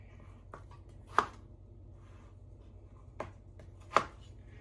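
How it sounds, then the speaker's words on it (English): A knife chops peeled white waxy potatoes into chunks on a board, with a few sharp, separate knocks spaced unevenly and softer cuts between, close and quiet with no talk. "now I'm just kind of cutting them into chunks"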